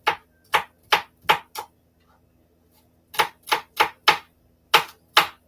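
Knife chopping onions into small pieces for shrimp empanadas, a run of five crisp, evenly spaced board strikes, a brief pause, then six more close-up chops in the same steady rhythm, with no talking.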